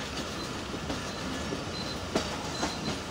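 Shah Hussain Express train on the line between Faisalabad and Gojra, a steady rumbling roar of rail cars with faint clicks of wheels over the track, continuous and fairly close, no voices.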